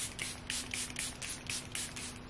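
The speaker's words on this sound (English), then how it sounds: "Setting spray." Charlotte Tilbury Airbrush setting spray misted from a pump bottle, a quick series of about eight short hissing spritzes in steady rhythm, close and soft.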